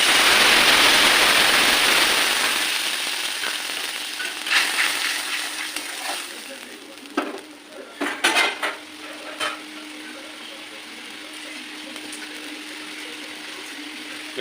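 Whole garam masala spices hit hot oil with a loud, hissing sizzle that fades after a couple of seconds, followed by scattered clinks and scrapes of stirring in the pan while cooking cauliflower curry.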